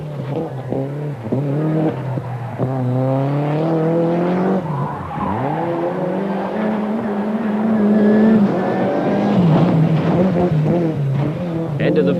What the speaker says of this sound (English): just look at this for confident car control around the twisting layout at Silverstone